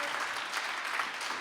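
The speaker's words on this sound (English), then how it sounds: "I would like us to clap our hands for them and for all of their grant managers" An audience at a heritage and peace event claps hands in a steady, dense round of applause, moderately quiet and continuous.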